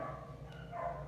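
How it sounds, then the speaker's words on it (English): Dogs barking somewhere in the house, a faint, muffled yip or two sitting low under a steady room background with no talk. "I'm sorry about the dogs."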